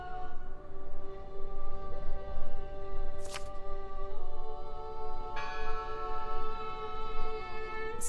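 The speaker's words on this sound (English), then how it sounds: "The bell." A church bell rings in the Draugen video game, its long tonal harmonics sustained over low ambient rumble. Two sharper strikes sound around the midpoint, and a fresh round of bright overtones enters near the end.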